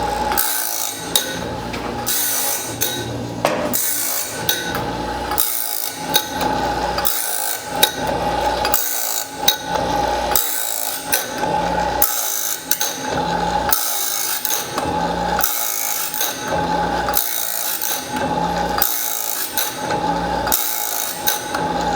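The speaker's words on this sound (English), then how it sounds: "I believe we're getting a pretty good sharpening on this." A sawmill blade is sharpened with steady, repeated rasping strokes, a rhythmic grinding scrape that pulses roughly every second and continues loud and unbroken with no talking.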